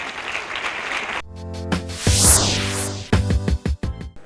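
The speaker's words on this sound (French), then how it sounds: "Sur vos ovations, messieurs et dames, on l'accueille," An audience at a regional preselection event in Kayes applauds in a brief burst of broadband clapping, which then gives way to loud music with a strong low rhythmic beat.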